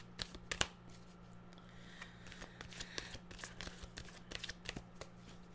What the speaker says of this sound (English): Let's get the other deck out. We'll pull some cards.